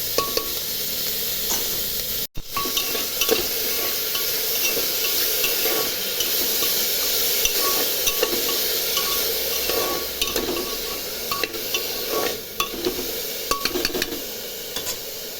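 Vegetables salted in a pan for chicken soup sizzle steadily up close while a utensil scrapes and clinks against the pan in irregular stirring strokes, with no talking.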